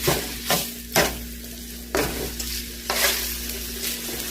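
Ground beef frying in a pan while a spatula breaks the clumps apart: a steady sizzle punctuated by about half a dozen sharp scraping strokes at irregular intervals, close and fairly loud, no talking.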